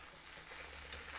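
Spine gourd fry is stirred in a pan over low, even frying noise, brief and fairly quiet, with a soft hiss and faint scraping.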